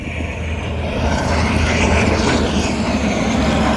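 An English Electric Canberra jet bomber in a flying display at Wings Over Illawarra 2022 produces a loud, close, continuous broadband roar that swells slightly as it passes, with no voices.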